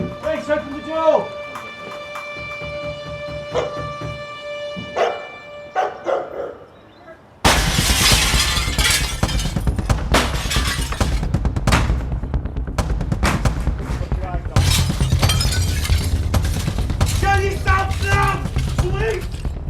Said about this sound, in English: 2 side doors smashed.